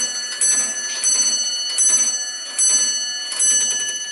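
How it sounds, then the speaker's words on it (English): An 1830 English grandfather clock with an eight-day movement strikes the hour on a bell. Bright, ringing strokes come in a slow, even series and each one decays into a sustained shimmer, heard alone and close. "It strikes on the hour on a bell."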